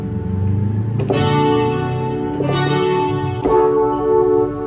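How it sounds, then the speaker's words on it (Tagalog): Sustained pad tones from a Yamaha MX61 keyboard with its built-in chorus effect, three swelling chords with shimmering, wavering harmonics and a bit of reverb, loud and close with no talking. "Chorus, parang ano lang. Parang chorus ng pedal sa gitara. May built-in siya."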